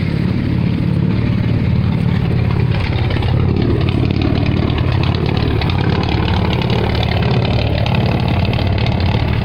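A Ford 300 inline six with straight-pipe exhaust idles steadily, a loud, continuous low rumble with a slightly uneven mechanical throb holding for the whole stretch, no voices over it.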